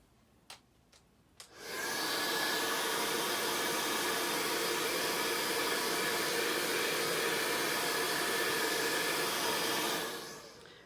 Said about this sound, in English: I'll hit it with the blow dryer